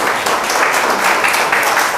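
A church congregation in a hotel-hosted revival service in Banjarmasin breaks into loud, dense applause and cheering, a close, sustained wash of clapping filling the room.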